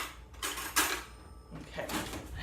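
A fork fetched from a kitchen drawer while preparing a buttered bowl of food, giving a few short metallic cutlery clinks and clatters at close range, with no talk.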